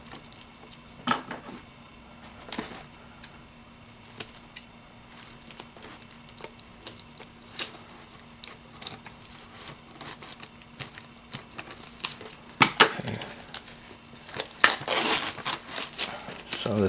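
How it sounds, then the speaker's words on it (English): The shrink wrap on an Xbox 360 game box for the Deadfall Adventures Collector's Edition is cut and peeled off up close. It produces intermittent crinkling, tapping and plastic rustles that grow busier and louder toward the end, with no talking. "since it's a shrink wrap, let me just cut from here"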